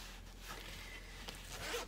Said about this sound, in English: Move my zipper out of the way.